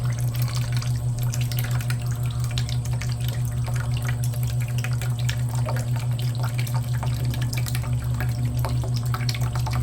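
Steady running water is poured into a cooking pot, a constant rushing stream with a low hum beneath it and occasional faint drips.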